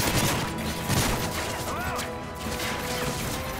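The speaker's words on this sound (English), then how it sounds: "someone's shooting at me" Gunfire aimed at the player in Modern Warfare 3 Special Ops, a dense rattling fusillade with crashing impacts, loud and close throughout, while a voice talks over it.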